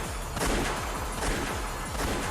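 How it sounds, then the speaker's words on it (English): Rapid bursts of gunfire crackle repeatedly over a dense, loud background in the game Umineko: When They Cry, a steady barrage with no pauses. "A hail of gunfire."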